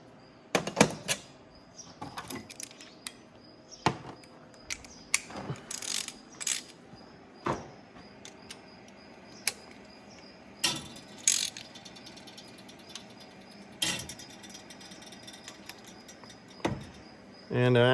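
A ratchet wrench draws down the oiled engine head bolts on an Allis-Chalmers 7060 tractor motor, giving quiet, scattered clicking strokes with sharper metallic clanks between them, close by.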